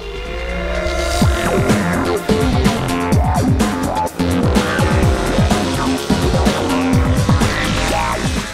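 Ducati 1199 Panigale motorcycle lapping Mugello circuit, its engine loud and continuous with repeated rising and falling revs through gear changes and the Biondetti chicanes, heard close and without talk.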